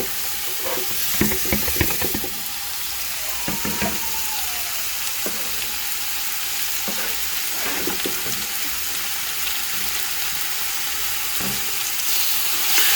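Pork fries in a pan under a loud, continuous sizzle, with clattering stirs and scrapes of a utensil clustered early and recurring now and then, no voices.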